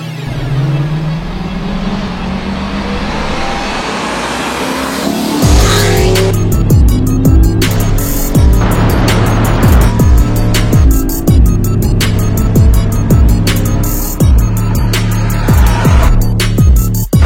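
A BMW M3 and a Lexus IS F, both V8s, launch in a race: engines idle and rev, then roar hard through rising gears with repeated shift drops, loud and close, no talk.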